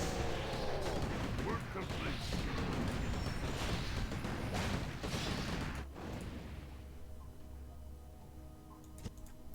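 A mass of riflemen fires during a Warcraft III battle, a dense crackle of rapid gunshots with clicking ticks that thins after a few seconds into quieter scattered shots, under a busy game mix.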